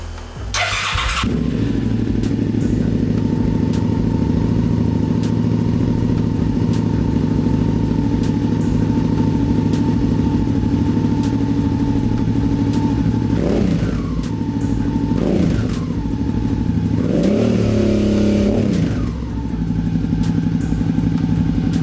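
Motorcycle fitted with a Two Brothers P1X exhaust baffle starts with a sharp crank, settles into a loud, close, steady idle, then is revved three times in quick rising-and-falling blips before returning to idle.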